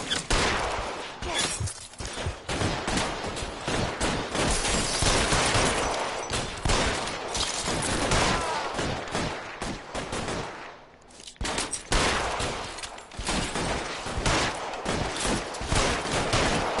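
Dense, sustained gunfire rattles through a shootout in the video game Doobeaux Noire, with rapid overlapping shots and bursts that are loud and nearly continuous, pausing briefly once before resuming.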